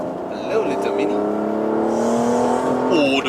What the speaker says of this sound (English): the way this car sucks in air there just now is lovely